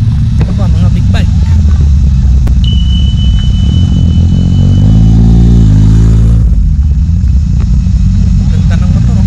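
Big bike motorcycle engines rumble loudly nearby, with a rising rev in the middle that then falls away, amid steady background noise and voices.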